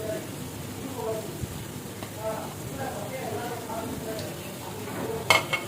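Egg being mixed into egg thokku frying in a pan: a steady, soft sizzle and stirring scrapes, largely masked by someone talking over it throughout.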